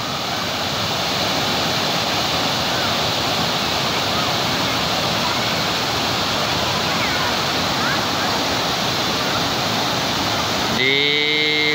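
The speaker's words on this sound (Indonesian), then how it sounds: "aliran bendungan Brayan ini cukup deras nih guys ya" Strong, fast water flow at Brayeun dam in Leupung, Aceh Besar: a dense, continuous roaring rush, close and loud throughout, with a voice briefly starting over it at the very end.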